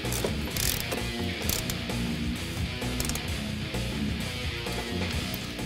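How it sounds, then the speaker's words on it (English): A ratchet tightens the strut mount nuts on a 2015-2023 Mustang GT during a spring install, sounding as rapid bursts of close metallic clicking broken by short pauses. "finally, we'll tighten down the strut mount nuts"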